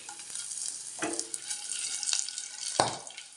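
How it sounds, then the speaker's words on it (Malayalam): Curry leaves and chilli, along with a pinch of fenugreek, drop into hot oil for a pazham pulissery tempering, giving a brief spitting sizzle with short crackling bursts and a sharp pop near the end, heard close and alone. "കറിവേപ്പില ചേർത്ത് കൊടുക്കാം മുളക് കൊടുക്കാം"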